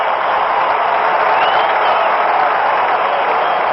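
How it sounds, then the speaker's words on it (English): Ohio State fans cheering at the 1974 Rose Bowl against USC: a dense, continuous roar of a large stadium crowd, loud and steady with muffled broadcast-quality tone. "Listen to the crowd of Ohio State rooters for Archie Griffin."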